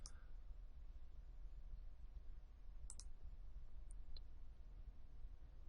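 A computer mouse clicking during office stationery software work: a few faint, sharp clicks, one early, a quick pair near the middle and two more shortly after, over a quiet hiss.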